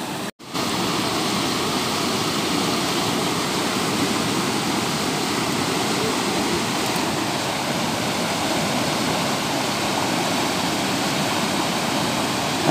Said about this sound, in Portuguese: Olha a cheia que tá aqui, ó.